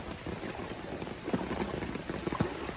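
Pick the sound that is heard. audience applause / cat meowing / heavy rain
heavy rain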